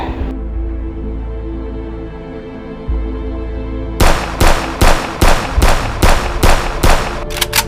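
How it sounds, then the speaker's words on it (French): A rapid burst of about ten loud gunshots at an even pace, following several seconds of low rumbling background. "j'ai entendu des coups de feu là-haut"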